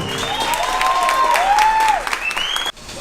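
Crowd applause at a stand-up comedy gig, steady clapping under a few tonal sliding sounds and voices, cutting off abruptly near the end.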